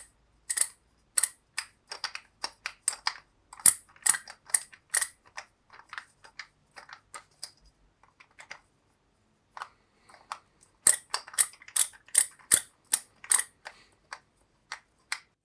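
A 3D printed PLA ratchet screwdriver clicks in quick, crisp bursts of small plastic ticks, with several clustered runs separated by short pauses. It sounds close and dry, with no voices.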